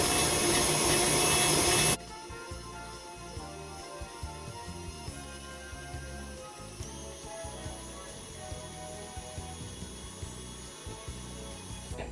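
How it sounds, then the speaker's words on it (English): An electric mixer creams butter for a French silk pie, opening with a loud two-second burst of whirring, then settling into a steady, quieter motor hum with rhythmic beater scraping against the bowl. "we're going to cream some butter. Our chef has joined us because she likes the mixer."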